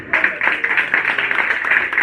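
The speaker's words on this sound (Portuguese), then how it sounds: "e as palmas são para o Senhor" A church congregation at a campaign service bursts into steady applause, a dense crowd of claps mixed with voices, fairly loud and close throughout.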